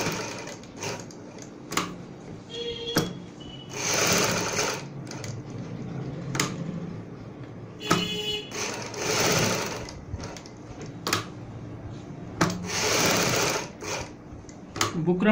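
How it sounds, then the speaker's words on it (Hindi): A sewing machine stitching along buckram while a neckline is made, rattling in repeated bursts of rapid stitching separated by brief pauses and clicks, close and fairly quiet. "इस बुकरम के साथ साथ हम सिलाई लगाएंगे।"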